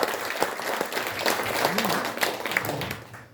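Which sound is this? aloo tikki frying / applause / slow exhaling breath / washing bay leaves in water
applause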